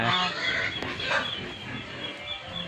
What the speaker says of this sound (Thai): มาเจอเล้าไก่นะครับ เลี้ยงเป็นไก่พื้นบ้านนะครับ